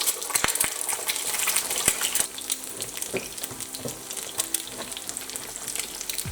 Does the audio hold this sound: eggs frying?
yes